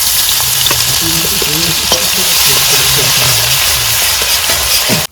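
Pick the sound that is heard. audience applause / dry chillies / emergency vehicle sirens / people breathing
dry chillies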